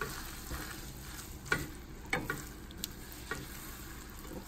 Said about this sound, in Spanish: Lo tenemos que revolver, que esté bien parejita.